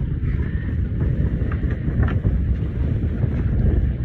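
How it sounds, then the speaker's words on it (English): Steady wind rushes past on a sailboat under jib and main on open water, a constant loud roar with gusty buffeting on the microphone and no voices. "Wind is definitely a little bit more out here, which is nice."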